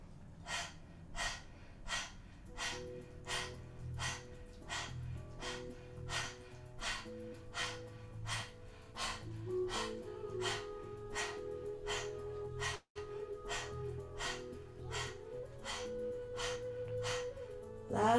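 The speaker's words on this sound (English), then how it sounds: "This is also a great detox breath. Detoxing negative emotions, cleansing the lungs." Rhythmic forceful breaths in a Kundalini yoga detox breathing exercise, sharp panting exhalations repeating at a steady pace near the microphone over soft background music, with one brief pause partway through.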